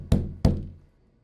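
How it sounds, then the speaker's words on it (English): Two dull, soft knocks on a door, close together and slightly muffled, each one fading quickly into silence. "A soft, distant, and insistent knocking."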